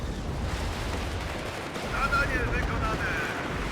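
Sustained battlefield gunfire in the real-time strategy game Warno, a dense continuous rattle of shots and blasts with a voice briefly heard over the din.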